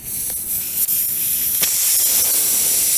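Steady broadband hiss of air escaping from a slow leak in a tire, constant and fairly loud throughout, with a couple of brief clicks partway through.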